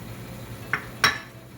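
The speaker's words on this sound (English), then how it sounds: "Now next, I'm going to throw in a couple of diced onions." Diced onions tumble into a pan of browned meat with two quick, sharp clatters a moment apart, close and fairly loud, with no talking.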